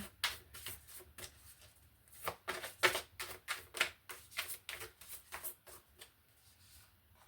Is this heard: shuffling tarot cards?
yes